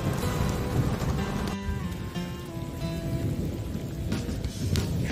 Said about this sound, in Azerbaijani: Sıdır düzündə yağış dolu.